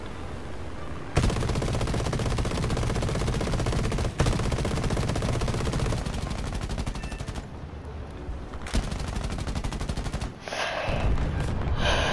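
Sustained bursts of aircraft machine gun fire in War Thunder during a mid-air fight, a dense continuous chatter broken by brief pauses and reloads, loud and close.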